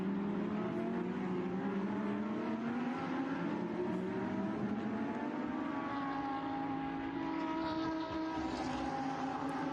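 Race cars lapping a busy, crowded racetrack, several engines droning and rising in pitch together as they pass, loud and continuous with no talk.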